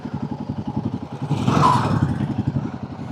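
A group of Royal Enfield Himalayan motorcycles rides together on a morning road trip. Their engines make a close, steady, pulsing thump with a slight swell partway through, and no voices are heard.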